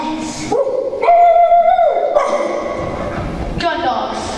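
Dogs barking and yipping in an elementary school stage musical, sharp bursts with a rising whimper-like tone, heard alongside voices on stage; the barks may be performed by actors.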